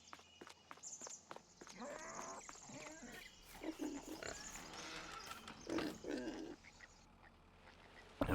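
Pigs on a farm in the Farming Simulator 22 video game, with snorts and grunts scattered over a steady busy ambience and some footstep-like thumps, moderately loud throughout with no talk.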